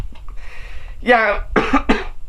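A few harsh coughs, close and loud, come in quick succession after a short breathy throat sound.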